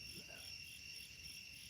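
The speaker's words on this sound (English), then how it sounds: "I hope y'all hear the crickets," Crickets chirp at night under a lunar eclipse, a steady, continuous high chirring that stays fairly soft and even throughout with no talking over it.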